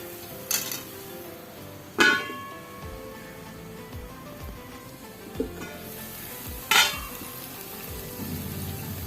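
Spice powders for a chala fish curry cook in a covered pan with a soft, continuous sizzle. A few sharp metallic clinks punctuate it, and no voices are heard.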